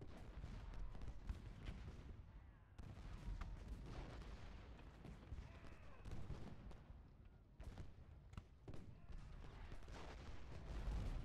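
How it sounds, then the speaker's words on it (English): Artillery batteries fire in the Gettysburg battle game Ultimate General: Gettysburg, faint repeated booms and rumbling cannon volleys spread across the scene with someone talking over them. "Yeah, these batteries are doing good work."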